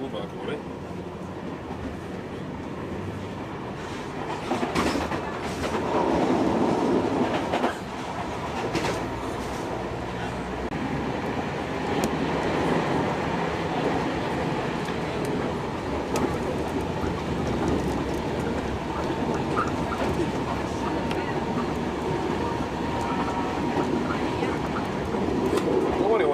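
A metro train rumbles and clatters steadily through a crowded underground station in Naples, with a continuous rolling roar and a murmur of voices around it.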